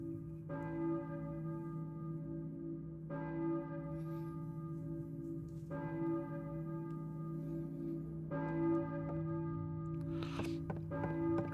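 Church bell tolling in the PS1 video game Silent Hill, slow repeated strikes roughly every two and a half seconds over a steady low drone, each ring sustaining with bright harmonic overtones.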